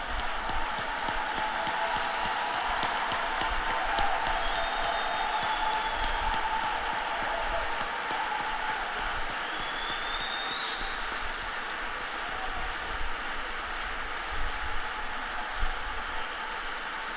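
A church congregation applauding together, a sustained dense patter of many hands clapping at steady loudness without a break, with faint voices mixed in.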